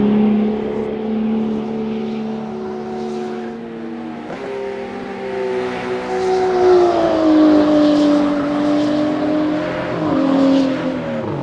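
A BMW M2 CS Racing car in the rFactor 2 racing simulator, its engine droning with a steady tone that dips on a gear change and then climbs and revs higher, loud and alone.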